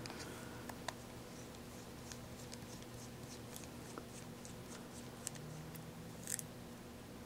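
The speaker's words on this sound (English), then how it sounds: "You see these two screws down here? One, two. You just unscrew these." Small screws being turned out of the back of an iPhone 4/4s with a tiny screwdriver, giving faint scattered clicks and ticks over a steady low hum, close and quiet.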